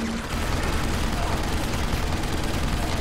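A boss firing at the player in Deus Ex: Human Revolution, dense rapid gunfire rattling continuously and loudly with a busy, noisy texture, and a voice faintly underneath.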